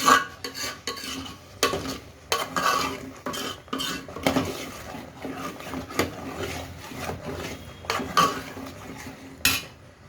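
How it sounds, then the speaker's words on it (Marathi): Masala for misal pav sautéed in oil in a pan, a spoon stirring and scraping against the metal in repeated clattering strokes, close and fairly loud, with a faint sizzle underneath and no talking. "चांगलं परतून हे मसाले वगैरे असं तेल सुटलेलं दिसलं पाहिजे छान आपल्याला, तोपर्यंत परतून घ्यायचं आहे"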